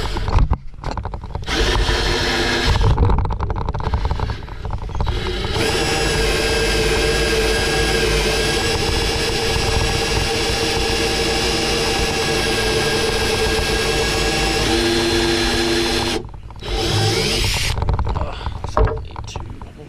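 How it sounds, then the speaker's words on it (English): A power drill whines loudly and steadily for a long stretch while drilling into a plastic cap on a 2015 GMC Sierra, briefly stopping and restarting, with some speech-like sounds near the start. "We're just going to drill."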